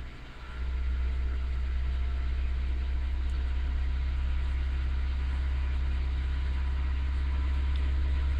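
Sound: Toyota Camry engine revved to 2000 RPM

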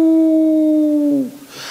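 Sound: speaker imitating jackals howling at night

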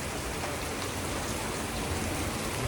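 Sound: heavy rain falling

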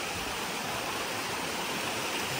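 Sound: Hurricane River flowing into Lake Superior

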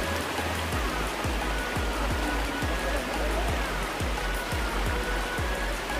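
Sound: steep mountain stream flowing in a forest

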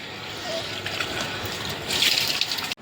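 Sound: water flowing from the supply tap

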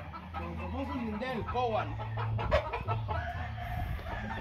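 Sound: chickens and rooster

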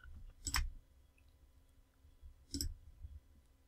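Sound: computer mouse click

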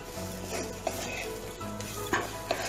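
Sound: stirring frying ivy gourd with roasted gram powder

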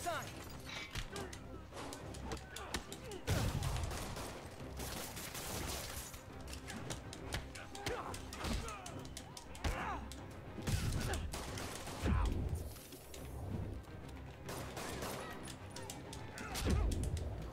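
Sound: gunfire in the Spider-Man video game

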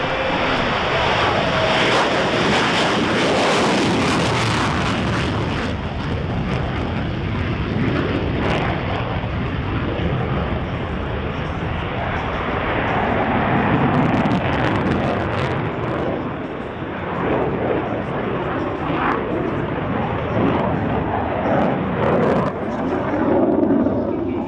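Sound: F-16 Viper fighter jet flying in an aerobatic demo

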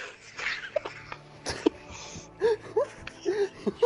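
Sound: dog breathing heavily

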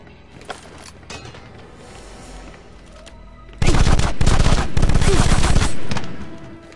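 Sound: gunfire in the video game Afterfall InSanity

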